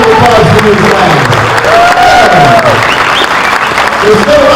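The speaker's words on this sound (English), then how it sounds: "They all take a round of applause for these guys." Loud crowd applause and cheering for the guests at a 2023 fan Q&A event, mixed with overlapping voices and whoops throughout.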